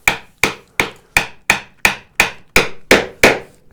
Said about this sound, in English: Eyeball it vertical. Tap it straight down.